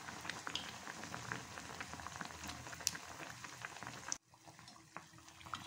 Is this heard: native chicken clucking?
no